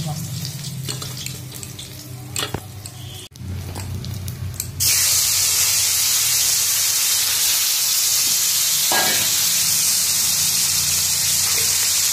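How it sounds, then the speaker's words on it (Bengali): Steady loud sizzling hiss of potatoes frying in hot oil, continuous and close, following a stretch of quieter kitchen clatter. "দেখো এখানে আলু ভাজা করছি"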